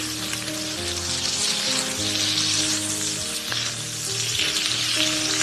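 Lotus root patties sizzle steadily in oil in a pan over medium-low heat, a dense continuous frying crackle, close and loud, with no talk over it.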